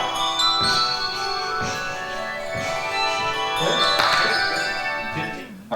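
A handbell choir rings a run of chiming notes with soft tapping strikes, struck steadily over several seconds and heard close.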